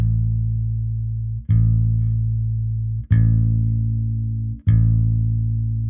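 Bass guitar plays three long sustained notes, each ringing right up to the next pluck so the notes connect without gaps, loud and close with no other sounds.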